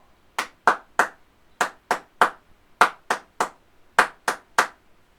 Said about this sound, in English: In this case, it's just a rhythm, and it is a clap.